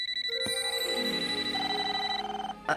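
A cartoonish electronic ringing from a toaster, with bright sustained tones like a phone bell, sounding steadily and ending with a short clatter.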